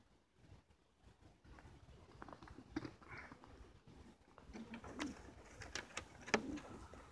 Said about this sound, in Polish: Tu właśnie mamy tych gołębi radwańskich, samca właśnie mojego rozpłodowego.